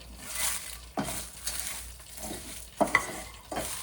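Hing and dry red chilies frying briefly in hot oil for an eggplant jhol curry, a steady soft sizzle punctuated by a few sharp stirring scrapes and clinks of a spoon against the pan.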